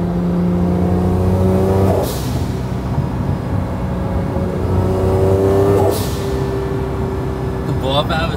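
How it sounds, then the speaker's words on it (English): Inside a Honda NSX, the engine drones and rises through gears with whooshes from the blow-off valve on shifts, heard as a steady cabin roar. "I don't think you guys ever heard the NSX from inside."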